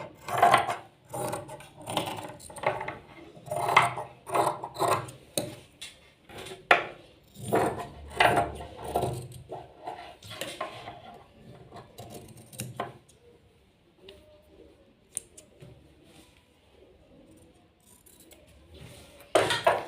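Scissors snip through fabric laid on buckram to shape a round neck, a quick series of close crisp cuts with short pauses that thins out to sparse, quieter snips toward the end.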